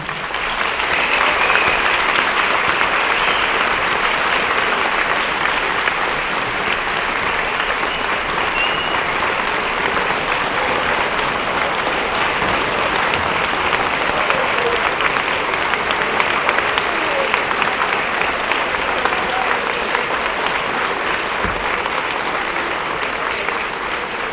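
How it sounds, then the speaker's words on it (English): A school awards audience applauds the faculty and staff, a steady dense wash of clapping that holds at an even level for the whole stretch, with no talk over it. "Please join me in applauding the faculty and staff of our school."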